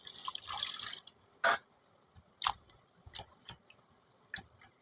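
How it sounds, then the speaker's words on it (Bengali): Rested flour dough being kneaded and washed in water by hand until the water runs white, giving close wet squelches, drips and sloshes in irregular bursts. "এখন ময়দাটা আমি ধুয়ে নিব জল দিয়ে ভালো করে"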